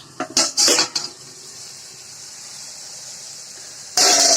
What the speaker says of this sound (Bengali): আবার আমি ঢাকনাটা খুলে নিলাম